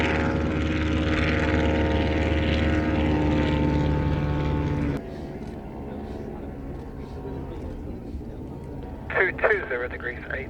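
Vintage box-type propeller aircraft at a season-premiere air show, a steady droning engine hum that drops off sharply midway to a quieter distant buzz, with brief chirping sounds near the end.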